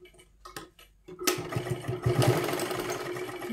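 Sewing machine running a double stitch to fix a button on a little girl's fancy frock, starting after a few soft taps and then whirring steadily and close by for the rest.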